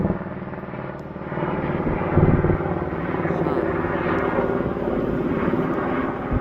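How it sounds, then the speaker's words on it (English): A helicopter drones steadily overhead, its rotor thumping as a constant rumble that swells slightly partway through. "there's a helicopter exactly overhead."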